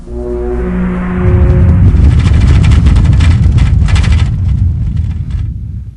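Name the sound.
horn in strong wind, video game Zork Nemesis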